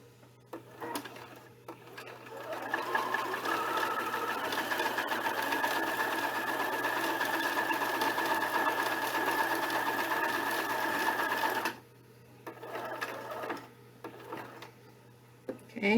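A sewing machine runs edge stitching along hair canvas, a fast steady whirring stitch for about ten seconds after a few starting clicks, then stopping abruptly with faint handling noises.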